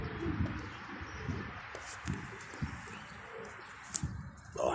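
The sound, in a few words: pigeons cooing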